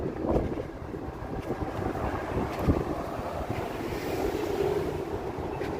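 Wind gusts over the microphone on the Las Vegas Strip at night, making a steady, broad rush with uneven buffeting bumps throughout. The wind keeps going and no one speaks.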